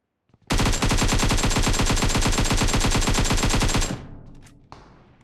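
Sustained rapid automatic gunfire in the mobile battle royale game PUBG Mobile, a loud, dense stream of shots lasting about three seconds before cutting off, followed by a fading tail and one faint late report.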